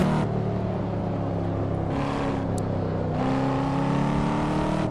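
Chevrolet Corvette C7 Stingray in Assetto Corsa, driven with a Logitech G27 wheel, braking and downshifting: a loud, steady engine drone that drops in pitch with each gear change, then climbs again, with no talk over it.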